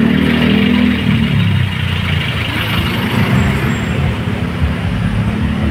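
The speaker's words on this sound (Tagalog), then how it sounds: "Ayan o, sobrang traffic. Daming sasakyan." Heavy road traffic near C5, a loud, constant roar of truck and bus engines with rumbling idling and creeping vehicles, steady throughout and no voices.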